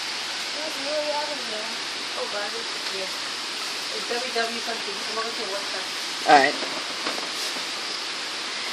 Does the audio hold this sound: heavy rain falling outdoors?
yes